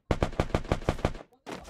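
A rapid burst of about seven loud, close gunshots in quick rhythm in a video game, a brief gap, then another shot begins.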